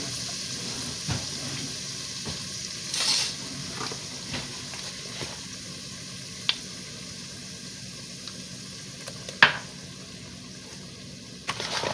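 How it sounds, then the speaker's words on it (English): Garlic frying in butter in the pan used for shrimp, a soft steady sizzle with a few light clinks and stirs, fairly quiet and without talking. "I put about 6 teaspoons of butter in the pan where I cook the shrimp. And I'm going to add 1 tablespoon of garlic."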